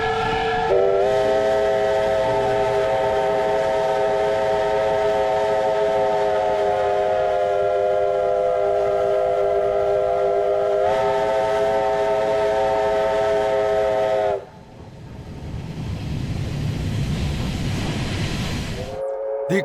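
An excursion train near Karioi, New Zealand, sounds a loud, sustained whistle for over ten seconds above its running noise, then fades into a lower rumble of moving rail cars.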